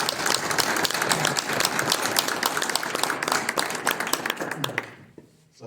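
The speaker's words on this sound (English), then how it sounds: "So let's give him an applause." Audience at a radio club meeting applauding, a dense burst of clapping from a small crowd that tapers off and stops near the end.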